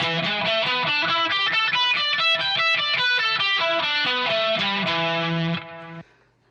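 An electric guitar plays a quick run of single notes up and down a minor pentatonic scale, clean and bright, ending on a held note.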